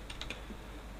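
A single press of the I key on a computer keyboard, a few quiet, close clicks in quick succession over a low hum.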